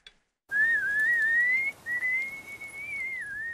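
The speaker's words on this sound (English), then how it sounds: "I constantly whistle, so the wild animals know I'm around." A Masai cattle herder whistles to keep wild animals away, producing a single long, clear, wavering whistled tone that briefly breaks before carrying on, close and loud with no talking.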